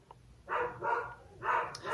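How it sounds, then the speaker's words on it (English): A dog in a yard barks at the neighbours' dogs, with three loud, full barks about half a second apart, close by and heard alone without talk. "Oh, Homer's barking at something."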